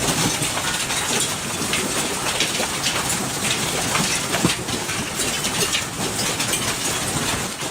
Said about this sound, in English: the hailstones as big as eggs